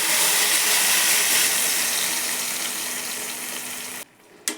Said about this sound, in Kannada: ಇದು ಸ್ವಲ್ಪ ಹಸಿ ಸ್ಮೆಲ್ ಹೋಗೋವರೆಗೂ ಚೆನ್ನಾಗೇ ಫ್ರೈ ಮಾಡ್ಕೊಳ್ಳಿ.